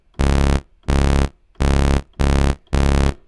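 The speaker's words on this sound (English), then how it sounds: "Now we have two sawtooth waves" Two sawtooth waves an octave apart from the Helm synthesizer sound five loud, buzzy sustained notes in a steady rhythm, each held about half a second with short gaps, bright and harmonically rich, with no voices.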